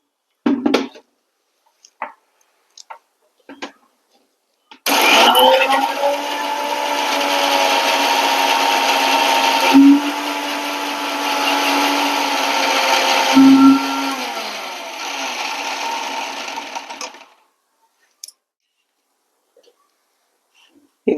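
A mixer grinder whirs steadily for about twelve seconds as it grinds mango pickle ingredients with curd and a little salt, loud and harsh with a couple of short pulses, and a few faint knocks come before and after.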